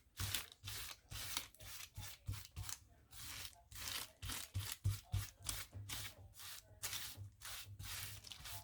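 Scissors cut through a stiffened coffee-filter collage in quick repeated snips and rustling strokes, close and quiet, with no talking.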